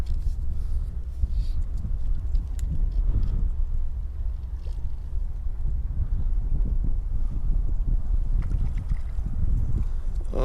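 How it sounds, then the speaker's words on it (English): Strong wind gusting outdoors on a windy day of trout fishing, a steady low roar and buffeting on the microphone that holds at the same loudness throughout, with no talk. "after the wind tried to blow my hat off"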